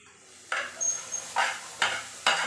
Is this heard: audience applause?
no